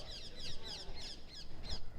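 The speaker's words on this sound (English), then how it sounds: "They're technically monk parakeets, but they're big enough to be parrots, and they're bright green with long tail feathers" Monk parakeets call outdoors in Rome, a run of harsh, raspy squawks repeating in quick bursts at moderate distance over steady background noise.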